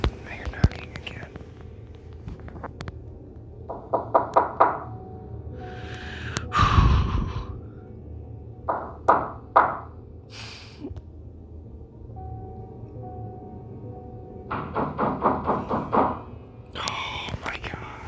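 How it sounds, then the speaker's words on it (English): Knocking in an eerie recording: bursts of several sharp raps in quick clusters recur among whispering voices, breathing, and a heavy thump, moderately loud and close. "Now you're knocking again."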